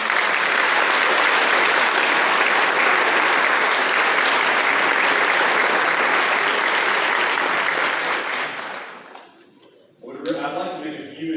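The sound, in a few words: audience applause for students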